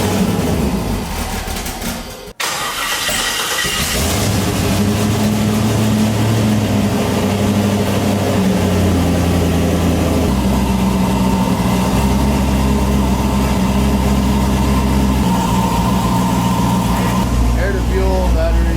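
A turbocharged LS-swapped Infiniti G35 engine starts with a brief cranking catch and then settles into a loud, steady, low rumbling idle, close by and running continuously.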